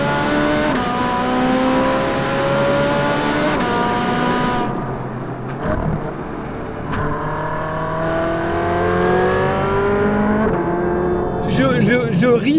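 A Ferrari 458 Spider's engine revs hard and loud, climbing through rising pitches with gear changes and a short drop partway through, then settling before a final burst of higher sounds.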